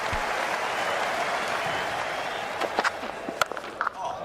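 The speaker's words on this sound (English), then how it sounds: "Warm applause." Steady, dense applause from a large cricket crowd, sustained throughout with a few sharper claps and knocks standing out toward the end.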